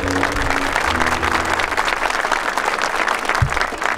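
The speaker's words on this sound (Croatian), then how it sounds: "jedan veliki aplauz" A concert audience gives a sustained round of applause in 2016, a dense, even wash of clapping from a large crowd that holds steady throughout.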